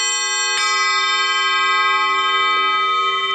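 Small harmonic singing bowls struck with the covered end of a stick give a soft strike followed by a long, steady, shimmering ring that sustains alone without fading much.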